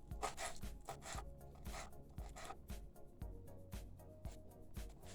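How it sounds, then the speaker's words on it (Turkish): A knife chops parsley on a board in quick, regular strokes, each a crisp tap with a light scraping texture, close up and fairly quiet, with no talking. "Biraz maydanozum var. Onları da keselim şöyle. Küçültelim."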